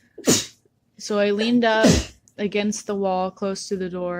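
A sharp close sneeze bursts out at the start, followed by a second sneeze-like burst amid a person talking steadily.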